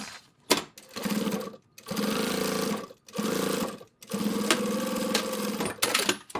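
A sewing machine stitching the strap of a sling bag runs in short, close bursts of rapid, even needle chatter, broken by brief pauses, with no talk.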